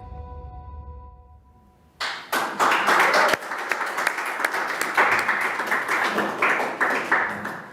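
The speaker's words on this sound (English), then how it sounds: "A shout out to our YouTube followers for a little bit of applause as well" Sustained applause from an audience at a celebration event bursts in suddenly after a quiet moment and carries on steadily as a dense, even patter of many hands clapping, with no talk over it.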